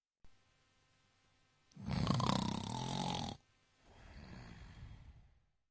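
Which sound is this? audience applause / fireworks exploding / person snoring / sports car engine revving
person snoring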